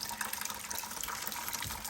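Coolant pouring from the top of a 2016 Ram 2500 truck's coolant reservoir and splashing into a bucket, a close, steady gushing and spattering of liquid.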